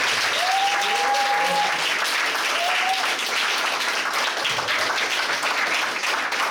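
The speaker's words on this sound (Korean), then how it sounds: "고생해주신 우리 황경식 선생님 큰 박수를 보내주십니다" An audience at a talk concert gives a loud round of applause to a guest, sustained crowd clapping throughout with a couple of brief tonal voice or feedback sweeps early on.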